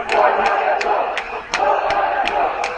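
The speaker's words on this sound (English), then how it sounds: "The cries of "Go Royal, go" emanate from the crowd on my right" Rugby crowd at a school match between Royal College and St. Peter's, chanting "Go Royal, go" in a steady rhythmic pattern with regular sharp accents, loud and sustained across the stand.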